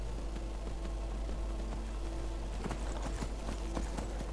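A horse's hooves galloping in Skyrim, a steady rhythmic clip-clop over a constant low rumble, with the beats growing a little more pronounced toward the end.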